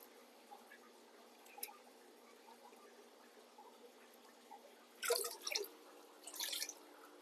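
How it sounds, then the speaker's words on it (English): Squeezing an aquarium filter sponge into tank water from a 225-gallon tank produces soft, scattered drips, then a few louder splashy trickles near the end, quiet and close. "take the sponge, squeeze it in some tank water so you don't kill your beneficial bacteria off"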